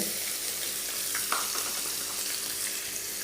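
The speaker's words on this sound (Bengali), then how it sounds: "আমি গোশত ভাজার তেলটার ভিতরেই আমি পেঁয়াজ, 2টা বড় সাইজের পেঁয়াজ কুচি" Steady, loud sizzling of chopped onions frying in hot oil, a continuous crackling hiss with a brief clink partway through.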